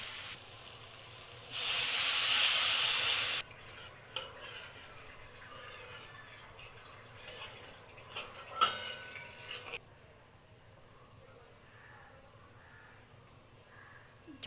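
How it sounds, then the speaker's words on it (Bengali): Fish curry gravy hisses loudly for about two seconds as water is poured into the hot pan, then settles into a faint, quiet simmer with a few light clinks. "জলটাকে ভালোভাবে ফুটতে দেব, এতে কাঁচা মশলার গন্ধ দূর হবে।"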